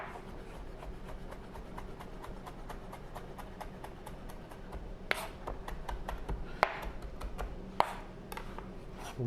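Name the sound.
knife chopping herbs and shallot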